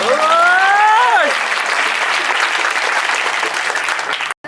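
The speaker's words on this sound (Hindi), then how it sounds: "लेकिन आपकी तालियों में जोर होना चाहिए" An audience at a live comedy show breaks into loud, dense applause that continues steadily after a voice calling out over the first second, then cuts off abruptly.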